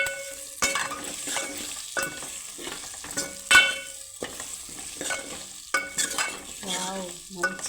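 A spoon stirs a potato, tomato and onion curry in a pan, with scraping strokes against the metal over a soft, steady sizzle of frying. The stirring comes in irregular bursts, close up.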